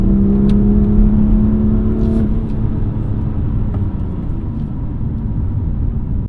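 A BMW M2 sports car engine roars loudly up close, a steady revving tone that shifts as the car accelerates, with no voices.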